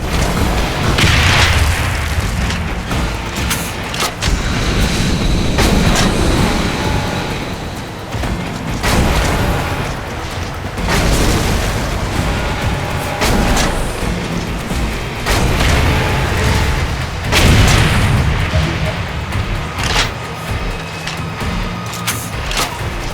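Missile launcher fire and explosions ring out in the sci-fi shooter Section 8: Prejudice, with repeated loud booming blasts and heavy rumble across a sustained, chaotic stretch of combat.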